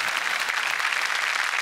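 Loud, dense applause from a television comedy studio audience, a close, steady roar of many hands clapping together with no pauses and no voice over it.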